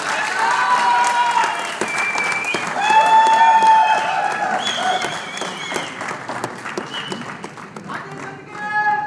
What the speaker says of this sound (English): A big claps for Rajesh.